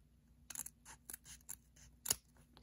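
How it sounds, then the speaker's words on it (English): Scissors cut paper for a flyable paper F-14 model in a string of crisp snips, several close, sharp cuts spaced unevenly over a few seconds with no talk. "You want to cut it right along that line."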